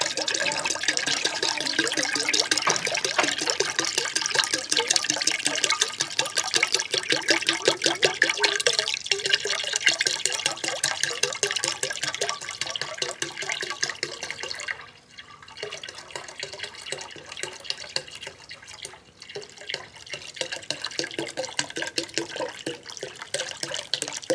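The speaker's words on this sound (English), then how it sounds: "And then put your ginger ale in. Put the whole bottle in." Fizzy ginger ale poured from a whole bottle into a bowl of sour punch in a kids' Thanksgiving cooking class, a steady close pour with bubbly fizz that runs continuously, dipping briefly midway before carrying on.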